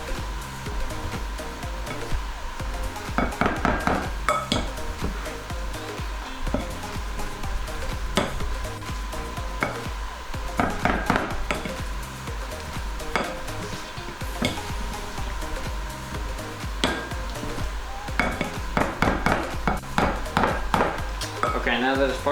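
Potatoes seasoned with garlic powder and pepper are mashed in a pot, with repeated scraping and thudding strokes over a continuous background hiss and occasional metallic clinks.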